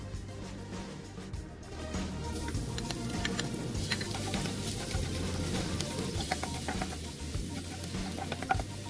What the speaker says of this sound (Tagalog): Tapos prituhin muna natin itong ating bawang.